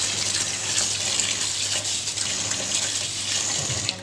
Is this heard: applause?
no